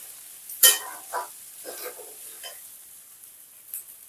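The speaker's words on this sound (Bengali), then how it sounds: "সাবুটাকে ভালো করে মিশিয়ে নেব" Sago being stirred in a frying pan: a sharp scrape or knock of the spoon, then a few softer stirring strokes with light sizzle, close by, fading toward the end.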